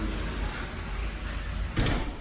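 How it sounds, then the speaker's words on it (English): An indoor door in a house is closed and locked: a steady hum of room noise, then a single sharp click and thud near the end. "pardon me while I close and lock that door."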